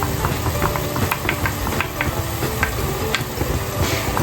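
Tomato goes into a pot of Moroccan harira soup already flavored with ginger, setting off a steady close sizzle and frying crackle with bursts of stirring throughout, no voices.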